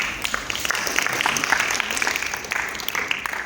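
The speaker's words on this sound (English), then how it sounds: "Clap for him." An audience at a national youth mentoring program gathering claps for a student speaker, a steady patter of many hands close by, with faint voices mixed in.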